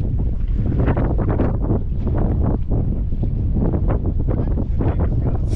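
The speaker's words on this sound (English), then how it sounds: "We're going to brave the wind." Strong wind buffets the microphone on open water during fishing from a boat, a loud, constant roaring rumble with gusty surges throughout.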